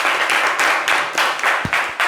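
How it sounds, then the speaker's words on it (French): Audience applause at a live show as a volunteer is brought up from the crowd, dense clapping with a few louder individual claps standing out, steady and fairly close for a couple of seconds. "On peut l'applaudir très très fort."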